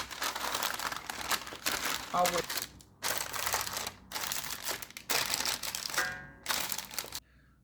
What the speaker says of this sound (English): we take baking paper and we cover